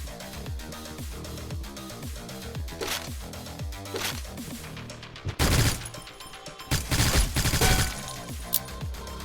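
Gunfire in a horror video game set in a bloody manor, rapid bursts of shots, sharp repeated cracks building to louder, denser volleys in the second half, with no talk.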